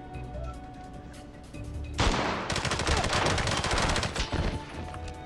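Gunfire in the video game James Bond 007: Blood Stone: after quiet game ambience, a loud burst of rapid shots erupts and continues as sustained, dense automatic fire with crashing impacts until the end.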